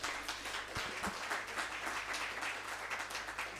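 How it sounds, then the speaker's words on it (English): An audience at a national HIV and AIDS symposium claps steadily, a soft, even patter of many hands with no voices over it. "she deserves a bigger applause"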